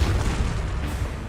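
Confringo fire spell blast in Hogwarts Legacy: a deep, rumbling fiery boom that fills the low end and rolls steadily for over a second, loud and close with no voices.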